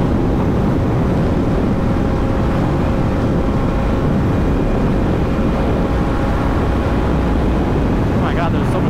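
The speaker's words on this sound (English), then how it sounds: "Oh my god, there's so much wind." Strong wind buffets the microphone in a loud, continuous roar, with a faint engine drone underneath and a voice breaking in near the end.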